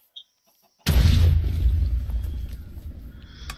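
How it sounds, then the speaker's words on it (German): A creeper blowing up in Minecraft: after near silence, a sudden loud, close boom hits and rolls into a rumbling decay lasting a few seconds. "Hier rennt Creeper rum, das glaubst du nicht, ey."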